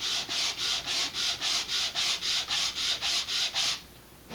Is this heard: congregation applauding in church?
no